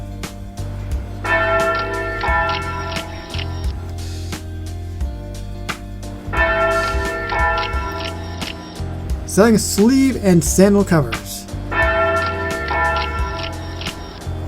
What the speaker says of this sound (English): The chiming bell, that's classic.